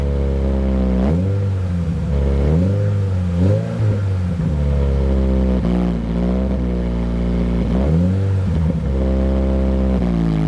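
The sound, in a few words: Toyota GR86 engine revving, exhaust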